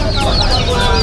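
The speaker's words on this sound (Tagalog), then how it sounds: "Mga sisiw din." Chicks and chickens cluck and peep together in a dense, close chorus, a continuous overlapping flock sound with no pauses.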